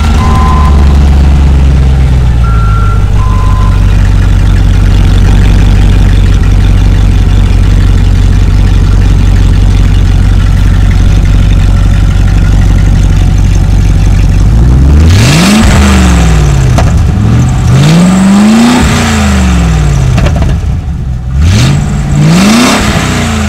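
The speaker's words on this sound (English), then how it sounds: "I'll show you a sound clip with the aftermarket exhaust that I have." A 1996 Land Rover Discovery V8 with an aftermarket exhaust idles loud and deep with a steady burble for about fifteen seconds, then revs up and falls back in several sharp, rising-and-falling pulls, close and alone.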